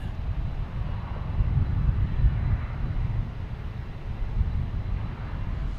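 Twin turboprop airliner taxiing at Boston Logan Airport, a continuous low engine rumble and drone that swells slightly midway, heard from a distance with no talking.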